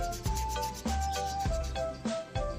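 A brush scrubs a cola-and-paste mixture against a rusty motorcycle exhaust, rubbing in repeated short strokes, roughly every half second, close and steady with no talking.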